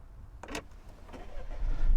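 A Peugeot 2008 GT Line engine turns over with a quick whirring crank, then fires into a low idle that grows steadily louder. The clip is short and recorded from inside the car, with no speech.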